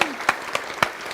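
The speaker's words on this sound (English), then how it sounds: "We can clap for that." Crowd at a fundraiser breakfast applauds, a wash of clapping with a few distinct louder claps standing out, brief and moderately loud.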